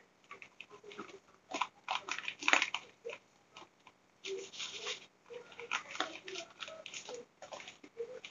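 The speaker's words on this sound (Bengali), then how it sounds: "তো চালটাকে এখন ঢেলে নিতেছি।" Dry rice is poured into a pot in a few separate gushes of close, gritty rattling, each stream swelling and stopping, with short quiet gaps between pours.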